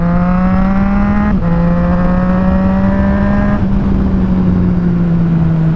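A 2020 Triumph Street Triple RS motorcycle engine revs loud and close, holding a steady high-pitched drone for several seconds with two brief dips as the throttle is blipped, no talking over it.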